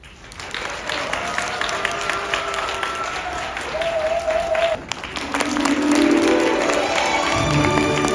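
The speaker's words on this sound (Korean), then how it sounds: "축복된 결혼식을 여러분의 큰 박수와 열렬한 환호성으로 시작하겠습니다." Applause and cheering from wedding guests opening a ceremony, steady clapping through the hall with scattered shouts and whoops rising louder toward the end, and voices calling out amid the crowd.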